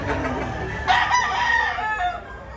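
Chickens at a chicken market in Batangas, with a rooster crowing loudly nearby among clucking fowl amid market background noise.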